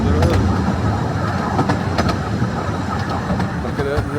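A heritage steam train on the Ratty railway, heard as a loud steady rolling rumble with rhythmic clicks and clanks from the carriages, and voices talking over it.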